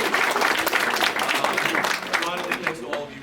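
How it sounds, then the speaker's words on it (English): Audience applause at a high school poetry evening in New Hyde Park, a dense burst of clapping that fades over a few seconds, with a voice speaking over it. "We can clap for them."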